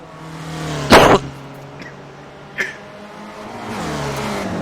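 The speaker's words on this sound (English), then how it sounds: "Cristobal Gutierrez, number 63, now passing or attacking, I should say, Gianni on the inside." Race cars in a sim racing video game on the Montreal circuit pass in a loud, sudden whoosh, followed by a smaller swell and a steady engine drone.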